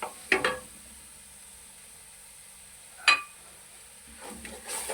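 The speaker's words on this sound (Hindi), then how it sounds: "इसको अच्छी तरह हम इसको भून लेंगे," Minced meat frying in a pan, a quiet steady sizzle broken by two sharp bursts of spoon-stirring scrapes and one softer one near the end, with no talking.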